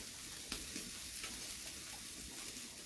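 Liempo pork belly sizzling on a grill, a continuous faint hiss and crackle with a few soft pops and taps, no voices.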